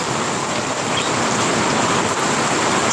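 Heavy typhoon rain pours in a steady, dense hiss during a storm that has flooded the streets, a constant roar with no pauses and no voices.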